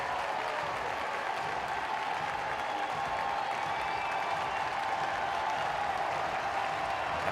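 A baseball crowd roars and applauds steadily throughout, a dense, continuous wash of cheering and clapping from a stadium audience on its feet with two outs and the bases loaded in a tied game.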